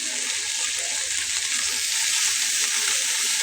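Vegetable stalks and leafy greens fry in a pan for a dried fish vegetable curry, making a loud, continuous close-up sizzle that holds steady throughout without any speech.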